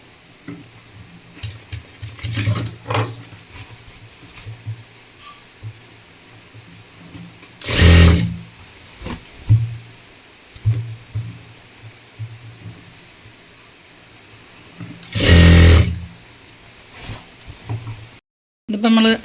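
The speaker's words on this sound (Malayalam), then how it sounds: "ഇതിപ്പോൾ നമ്മൾ അരഭാഗം മുഴുവനായിട്ട് മടക്കി തയ്ച്ചു" A sewing machine stitches the folded waistband of uniform pants, with two loud, sustained bursts of whirring running a few seconds each, separated by quieter handling noises and brief fabric shuffling.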